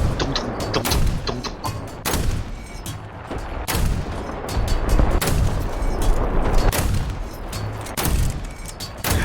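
Anti-aircraft gunfire in the combat game War Thunder, repeated sharp booming shots at an irregular pace, loud and close, over continuous rumbling battle noise.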